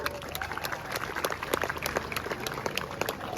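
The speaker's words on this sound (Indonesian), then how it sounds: "Tepuk tangan dulu." A short burst of group clapping from students at a school's first-day assembly, dense and steady, with a few voices mixed in.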